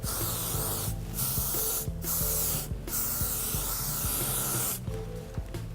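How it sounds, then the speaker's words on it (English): Hair spray is sprayed close onto hair in several long, loud hissing bursts separated by brief pauses, with soft music-like tones underneath and no talk. "And then we're going to spray it again. A little bit closer this time."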